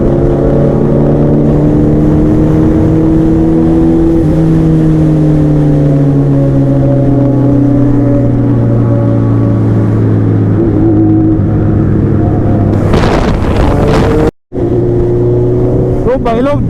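A super bike ridden at high speed on the Yamuna Expressway, a loud steady engine drone with shifting pitch and rushing wind, briefly cut out near the end.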